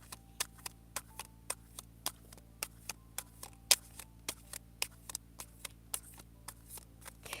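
Tarot cards shuffled in the hands for a reading, a steady run of crisp, close card flicks and snaps at a brisk, regular rhythm against a low background hum, with no talking.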